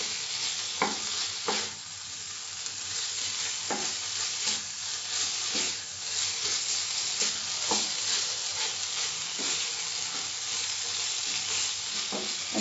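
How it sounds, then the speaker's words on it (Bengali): Boiled eggs stir-fried in masala over a medium flame, Andhra style: a steady close sizzle with irregular spatula scrapes and taps against the pan, and no voices. "এটাকে আস্তে আস্তে 2-3 মিনিট ভালো করে নাড়তে হবে।"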